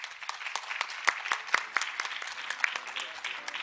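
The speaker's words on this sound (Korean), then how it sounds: "발표자분들께 감사의 박수를 드리는 것으로 올 세션을 모두 마치도록 하겠습니다." A small conference audience at an international patent court conference claps for the presenters, with sharp individual claps standing out in an irregular, moderately close patter.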